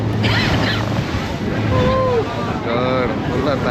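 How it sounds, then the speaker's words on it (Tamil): Sea water rushes and splashes against a tour boat returning to a cruise ship near the Maldives, loud and close with wind buffeting the microphone, while voices talk over it. "ஃபுல்லாக தண்ணி அடிக்குதுங்க."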